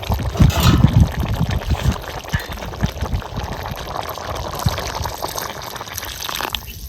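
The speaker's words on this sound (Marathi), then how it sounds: "थोडंसं पाणी घालते" Water poured into a pot of rice and black hyacinth beans for masale bhat, gushing loudly at first, then settling into a softer trickle and fill sound with some clattering.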